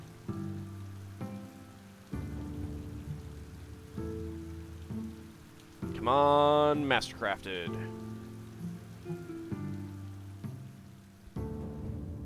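Steady rain falls in the fantasy strategy game Thea 2: The Shattering, a soft wash beneath tonal game music, with a voice speaking briefly partway through.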